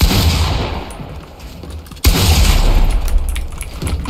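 Loud, booming gunfire in a video game, with a sharp shotgun-like blast mid-clip over a continuous roar of battle noise, no talk.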